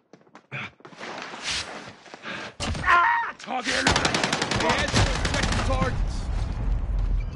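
Gunfire crackles in the Call of Duty Resurgence video game, bursts and rapid automatic fire building into a dense, loud barrage mixed with footsteps and game voices.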